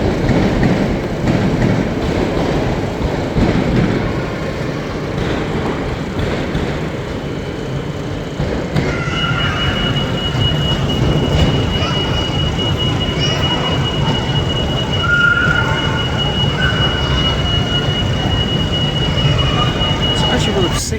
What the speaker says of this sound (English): we have a train we don't normally see in the platforms